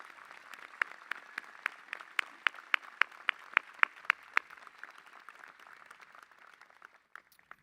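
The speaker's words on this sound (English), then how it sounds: "Everyone, please, one more round of applause for Reverend Dr." Commencement audience at a spring undergraduate ceremony clapping for a speaker, sparse and distant, with a regular run of distinct close claps standing out over faint scattered applause that thins toward the end.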